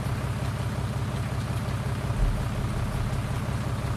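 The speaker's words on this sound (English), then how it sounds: "the sound of the tractor is really good" Tractor engine in the Farming Simulator 2019 video game, a constant low droning hum that holds steady at moderate level throughout, with no talking.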